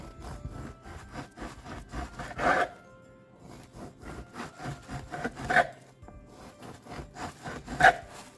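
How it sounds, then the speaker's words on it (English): A knife saws through a loaf of sourdough French bread in quiet, rhythmic back-and-forth strokes, with a few louder crusty crunches as the blade cuts through slices close by. "So I'm just going to slice a few slices here."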